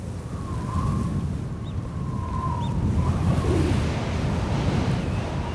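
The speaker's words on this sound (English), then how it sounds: "The wind begins blowing in gusts." Wind on the dry-season savannah of Ruaha, Tanzania roars in broad, rumbling gusts that swell and ease, with faint thin tones drifting above the steady rush.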